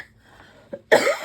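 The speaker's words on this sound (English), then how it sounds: "I apologize for coughing." A single loud, harsh cough bursts out close by after a quiet stretch with a faint throat sound, short and raspy, with no speech.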